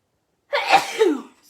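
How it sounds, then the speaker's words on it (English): A single close, sharp sneeze bursts out of silence, breathy and loud, then fades quickly. "I'm just gonna sneeze"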